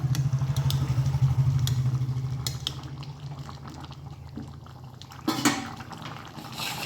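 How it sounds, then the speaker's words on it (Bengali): Bottle gourd simmers in a cooking pot, a low bubbling boil that is strong at first then fades, with a few clinks of utensils against the pot and no talk. "লাউগুলো একদম সেদ্ধ হয়ে গেছে।"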